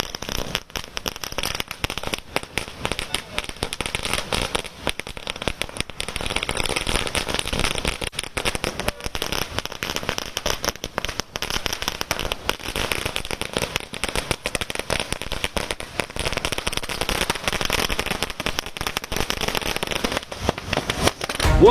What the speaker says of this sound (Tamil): அங்க பட்டாசு வெடித்து கொண்டாடக்கூடிய காட்சிகளை பார்க்கின்றோம்